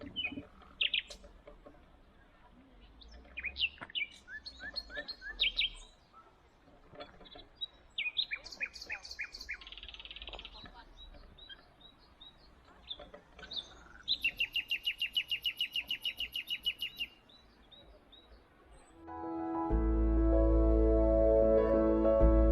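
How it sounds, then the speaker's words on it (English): A nightingale sings in a countryside setting near Banyeres in Spain's Valencia region, with varied whistles, trills and rapid repeated notes in bursts that sound fairly close and clear, before a rumble of wind or handling noise takes over at the end. "I stopped to listen to the song of the nightingale, an elusive bird."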